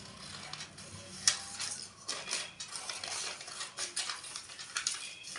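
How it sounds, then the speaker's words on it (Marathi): Scissors snip through katori-pattern blouse fabric pieces in quiet, irregular cuts with small ticks and taps on a table, close but faint, with no talking. "कटोरीचा शेप कापताना खूप काळजी घ्यायची, गोल आला पाहिजे."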